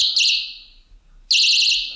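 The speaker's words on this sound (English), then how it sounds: "So when these 2 prongs separate, the alarm goes off." A handheld personal safety alarm shrieks loudly and close after its pin is pulled, a piercing warbling siren that sounds in two bursts with a brief gap between them, with no talking.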